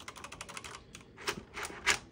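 Quick, crisp keystrokes clatter on a Blackwell V3 Mini wireless keyboard: a rapid run of light clicks, then a pause and a few louder, sharper presses, heard close and alone.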